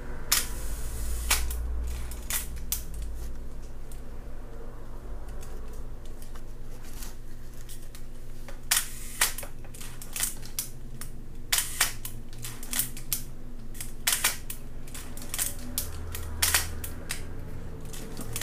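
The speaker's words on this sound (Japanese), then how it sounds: "このようにシャッター快調に動いてます" A black Olympus OM-1 film camera with a Zuiko 50mm f/1.8 lens fires its shutter repeatedly at different speeds up to 1/1000, crisp mechanical clicks scattered through the clip over a faint background, with no talking.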